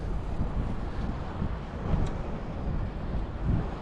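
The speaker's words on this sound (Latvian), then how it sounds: "Cik silts vējiņš uzpūta patīkami uzreiz palika." Steady wind buffeting the microphone at a seaside pier at Mangaļsala, a broad constant rushing roar with gentle surges and no speech.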